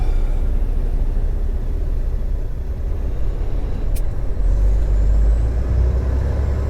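A truck rolling through rush hour traffic in Clifton, New Jersey, a loud continuous low engine and road rumble heard from inside the cab, with a brief high hiss partway through and a deeper surge near the end.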